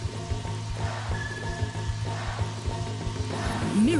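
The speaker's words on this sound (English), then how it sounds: "It's just raining now." Rain falling in the 2001 god game Black & White, a steady hiss of rainfall layered over rhythmic low musical pulses and game ambience, with a brief rising tone near the end.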